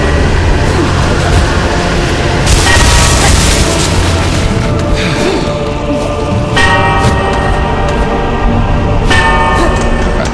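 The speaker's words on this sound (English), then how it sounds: "kind of crazy explosion goes on." Loud booming bursts from an explosion in the video game Silksong, with ringing, bell-like tones layered over a dense roar, the blasts swelling at intervals with no one talking.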